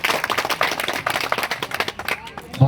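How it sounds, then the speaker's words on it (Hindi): An audience at a political rally claps in welcome, producing a loose, uneven patter of hand claps with a rough crowd texture. A voice is mixed in beneath the clapping. "एक जोरदार ताली से स्वागत कीजिए"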